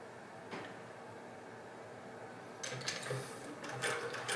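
A 1926 Singer 99 hand-crank sewing machine stitches quietly, with faint mechanical ticking and a few brief clicks, growing a little busier near the end.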